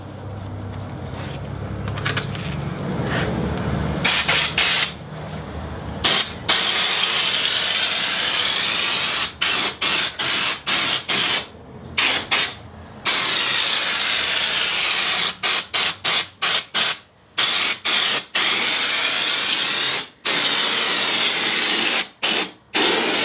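Steady loud hiss of a spray gun applying U-Pol Raptor bedliner coating in long bursts, cutting off briefly several times between passes, with no talking.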